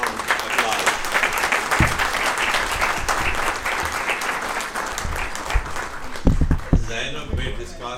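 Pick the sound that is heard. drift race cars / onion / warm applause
warm applause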